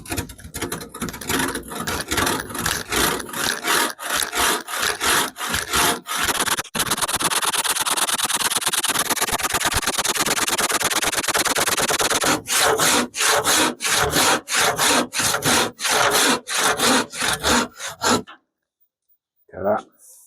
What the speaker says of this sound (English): Sawing wood in such a manner.